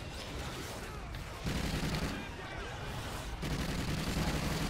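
Heavy, continuous gunfire and blasts in the video game Destiny during a Nightfall mission, loud and dense throughout with sustained rapid shooting.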